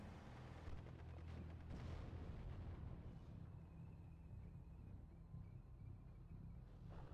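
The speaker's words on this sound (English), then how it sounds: "So this was a 3-inch mortar." A 3-inch mortar fires in the Steel Division video game, heavy low booms and rumbling blasts in the first few seconds trailing into a distant rolling rumble with faint whistling overhead.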